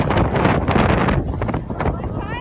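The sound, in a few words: strong wind during a ride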